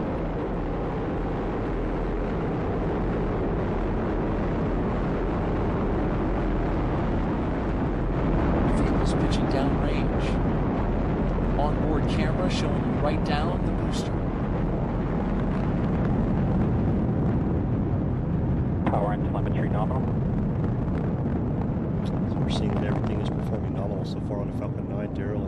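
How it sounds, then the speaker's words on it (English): A SpaceX Falcon 9 rocket with nine Merlin engines lifts off from Cape Canaveral, giving a continuous deep broadband rumble that roars steadily for the whole stretch, with crackling surges in the middle and near the end. "experience that rumble from the Falcon 9 here at the Mission Director Center"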